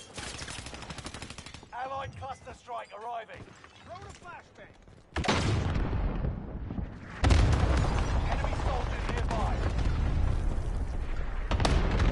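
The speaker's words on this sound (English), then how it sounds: "Allied precision airstrike incoming." Precision airstrike in the video game Warzone: a burst of loud gunfire-like blasts and booming explosions follows a stretch of voiced game audio, then a second heavier wave of rumbling impacts continues to the end.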